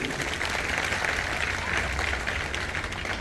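Loud, sustained applause from an audience at a government school education event in Punjab, a dense wash of clapping that fills the whole moment without pause.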